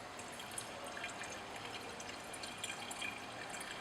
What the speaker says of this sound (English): Set up a dry 250 ml flask equipped with good magnetic stirring and add benzene to the flask.